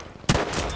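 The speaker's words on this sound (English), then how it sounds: "They're sniping the tower." A single sharp sniper rifle shot in the video game Battlefield 5, loud and close, with a sustained rumbling echo afterwards.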